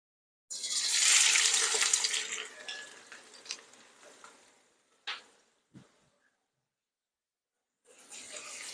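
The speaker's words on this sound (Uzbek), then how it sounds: "Piyozni yaxshilab tilloran bo'lguncha qovurib olamiz endi." Sliced onion hits hot oil in a pot and fries toward golden, a loud hissing sizzle that fades, followed by a few clanks of stirring and a quiet gap before sizzling returns.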